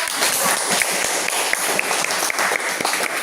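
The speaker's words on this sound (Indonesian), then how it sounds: "Tepuk tangan untuk kelompok" Classroom applause for a student group, a loud, dense burst of many children's hands clapping together close by, steady throughout the few seconds.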